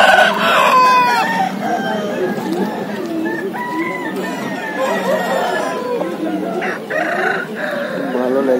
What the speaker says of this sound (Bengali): একটা খুব ভালো নাইস কোয়ালিটির মুরগি দেখতে পাচ্ছি আমরা।